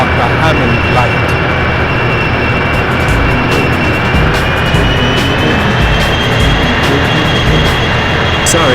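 A steady, loud roar from an airplane engine in the video game 007 Racing holds constant throughout, with faint clicks and pulses scattered above it.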